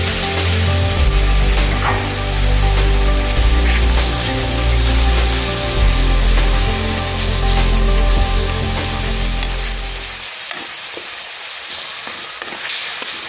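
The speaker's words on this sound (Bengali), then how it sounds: "মশলাটা যাতে না পুড়ে যায়, একটু জল দিয়ে দিচ্ছি।" Water poured onto frying masala for prawn malaikari produces a loud, continuous hissing sizzle over a low hum. The hum stops near the end, leaving fainter crackles.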